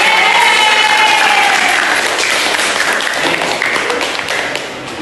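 Applause fills a classroom, a dense burst of clapping from many students, loud and close at first and tapering off slightly toward the end.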